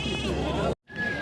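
A sheep bleats loudly and close by in a wavering, drawn-out call, then a short gap before a second bleat begins, heard on a village farm with goats and other livestock.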